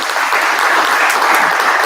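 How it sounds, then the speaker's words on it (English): An audience bursts into applause for a speaker at a talk, a dense, steady clatter of many hands clapping at close range for a couple of seconds. "Let's give him a hand, please."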